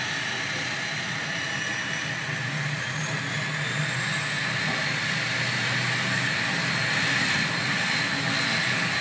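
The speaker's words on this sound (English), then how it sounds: "It's the Delta plane." A Delta airliner's engines run at Key West airport, a loud steady roar with propeller drone holding throughout, no voices.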